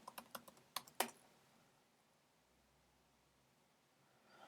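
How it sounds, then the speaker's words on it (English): A burst of quick, crisp computer keyboard keystrokes from someone entering a password, about seven close taps in the first second, followed by near silence with faint room hiss. "let's try typing that again correctly this time"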